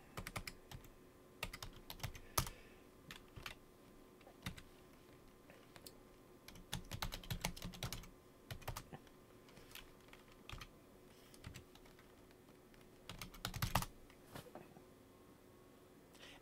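A password typed on a computer keyboard, with quiet close key taps arriving in uneven bursts and pauses, some clusters quicker and denser than others, and no talking.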